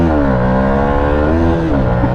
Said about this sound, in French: Le pot d'origine a une sonorité classique